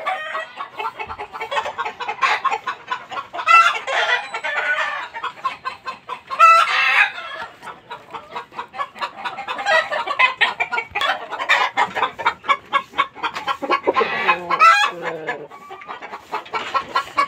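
A flock of hens and roosters kept for gamefowl breeding clucks and cackles close by in dense, overlapping bursts, with occasional louder crowing calls standing out throughout.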